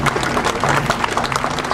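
An audience applauding at the opening of the Silver Lake Library, dense close clapping from a crowd, steady throughout the short burst.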